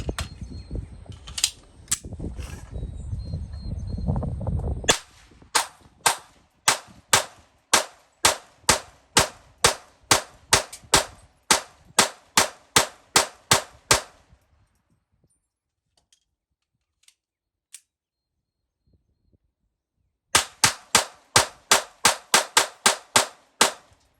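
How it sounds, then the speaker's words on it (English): A suppressed Sig P322 .22 LR pistol firing CCI Mini Mag rounds at a range: sharp, evenly spaced shots in a long rapid string, a pause with a single stray click, then another quick run of shots. "So we're going to take this one to the range and we're going to see how it shoots."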